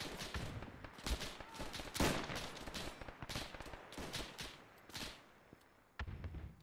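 Rapid gunfire from a close-range infantry firefight in the military simulation game Arma 3, with dense overlapping bursts and single cracks, some loud and near, others more distant, continuing without pause.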